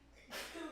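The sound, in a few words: sneeze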